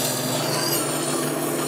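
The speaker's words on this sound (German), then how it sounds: "schleife meine Hobeleisen mit einer Schleifmaschine" A steel plane iron held against a grinding stone on an old grinder in a woodworking shop, giving a continuous, loud, close rubbing and hissing scrape with a steady tonal hum underneath.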